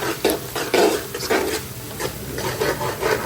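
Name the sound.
spoon stirring onions frying in a pot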